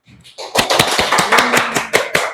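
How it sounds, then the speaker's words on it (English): A small group claps after a student's short talk about food: after a brief quiet start, close, crisp claps come in a loose, uneven rhythm, each one distinct, continuing to the end. "Clap hand, please."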